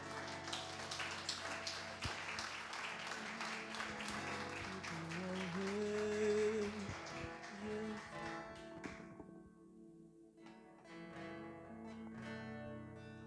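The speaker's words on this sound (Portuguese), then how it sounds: "pode aplaudir, igreja" A church congregation applauding at an evening service, a steady wash of clapping with music and sustained tones underneath, tapering off near the end.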